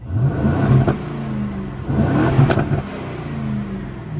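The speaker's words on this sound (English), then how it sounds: "listen to this is a standard exhaust" An Aston Martin DB12 revs hard twice through its stock exhaust in sport mode, rising in pitch and settling back between the two loud, close bursts.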